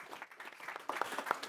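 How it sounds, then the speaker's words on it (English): Short burst of audience clapping after a reverse pitching session with investors, scattered sharp claps from a modest crowd rising briefly in density, quite faint and close together. "round of applause"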